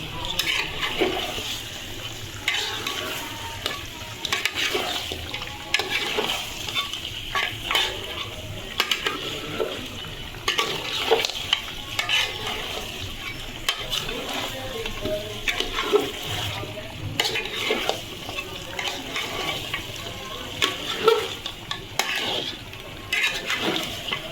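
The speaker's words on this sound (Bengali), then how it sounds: "আলু দিয়ে এখন আবার ভালোভাবে কষিয়ে নেব।" Duck meat and potatoes stir-fried together in a pan, giving a busy wet sizzle with repeated scraping and clattering stirs against the metal, close and steady throughout, without speech.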